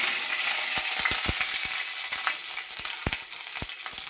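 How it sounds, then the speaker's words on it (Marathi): Green chillies sizzle in hot oil for a fenugreek leaf stir-fry, a steady close hiss broken by a series of sharp crackling pops, with no talk. "नुसती मिरचीच टाकते ना तेलावर"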